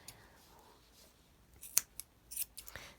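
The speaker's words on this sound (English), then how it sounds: "So I'm going to cut these tails off as well." Scissors snip off the tails of a small round handmade piece: a few quiet, sharp clicks close by, spaced irregularly after a stretch of near silence.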